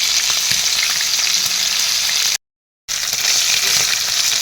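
Fish fries in a non-stick kadhai with a loud, dense sizzle and occasional stirring noises, interrupted by a half-second gap of total silence before the frying resumes at full strength.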